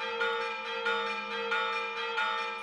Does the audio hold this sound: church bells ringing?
yes